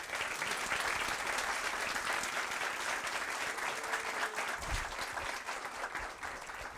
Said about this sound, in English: Let's give a big round of applause to Ben